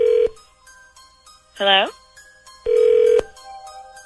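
Telephone ringing in short electronic bursts, two rings spaced a few seconds apart and a third starting at the end, with a voice briefly answering between them.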